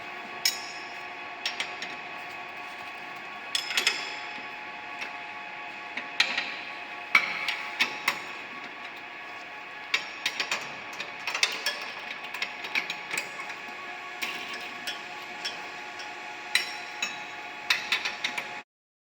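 A screw is turned by hand on a LAB200 Travel Omnia, giving a soft, steady train of small mechanical clicks with occasional sharper ticks, close and quiet, with no talking.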